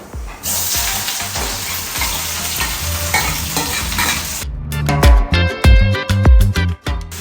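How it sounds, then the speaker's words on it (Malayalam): Loud, steady sizzling of chopped vegetables and onions sautéing in a pan with stirring, followed by a run of sharp clanks and scrapes of a utensil against the pan. "നമ്മൾ കട്ട് ചെയ്ത് വെച്ചിരിക്കുന്നതെല്ലാം ഇട്ട് കൊടുത്ത് വഴറ്റിയെടുക്കാം"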